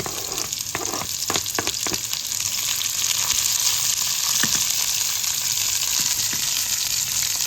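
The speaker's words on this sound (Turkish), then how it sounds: "sıkıca mor lahanalarımızı yağda döndürüyoruz" Shredded red cabbage fries and is stirred in hot oil in a pan, making a loud, dense, continuous sizzle with a few scraping clicks of the utensil early on.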